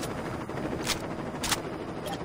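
AK rifle gunfire in the Saints Row video game, a dense rattle of shots with two sharper bursts standing out over a continuous noisy background.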